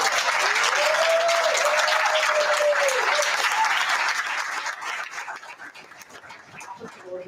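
A crowd at a school district board meeting applauds loudly with a steady wash of clapping, then the applause gradually thins and fades toward the end.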